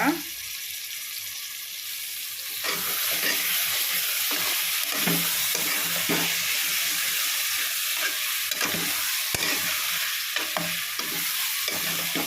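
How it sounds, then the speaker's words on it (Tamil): Prawn biryani ingredients sautéing in a hot pan, a steady loud sizzle with repeated scraping stirs, starting quieter for the first couple of seconds before the frying swells and holds. "இப்போ நல்லா அப்படியே வதக்கி விட்டுடலாம்."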